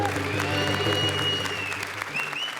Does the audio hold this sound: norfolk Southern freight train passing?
no